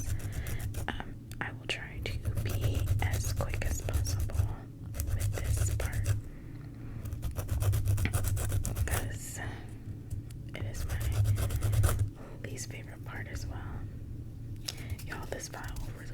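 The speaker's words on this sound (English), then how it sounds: "I'm going to use this file to file off that very tip of all the nails." Press-on nail tips being filed with a nail file, soft close scratchy rasping strokes in repeated bursts, heard under quiet whispering.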